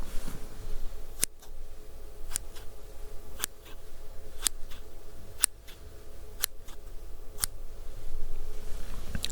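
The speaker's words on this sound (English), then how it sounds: "Now listen to these scissors." Metal scissors snip several times at steady intervals, each cut a sharp crisp click, close by over a faint steady hum.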